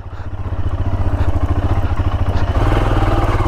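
A motorcycle being ridden out of a campsite runs close and loud, its engine throbbing in a rapid even pulse that builds and holds steady, with a mechanical clatter and no talk.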